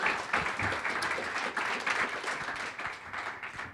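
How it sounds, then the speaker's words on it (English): Steady audience applause, many hands clapping together in a dense, continuous wash that holds evenly throughout. "I always appreciate the applause before I've started."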